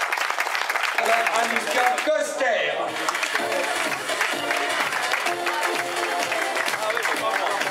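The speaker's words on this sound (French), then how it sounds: "vous applaudissons de nouveau à Audrey Cordon" A crowd applauds cyclists at a women's road race podium in Brittany, steady clapping and cheering filling the whole stretch beneath an announcer speaking in French over a loudspeaker.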